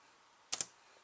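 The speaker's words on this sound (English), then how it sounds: "you're just going to click any key" A single key pressed on a computer keyboard, two quick close clicks of the press and release, then one faint tap near the end, in a quiet room while a Nexus 5 rooting process is started.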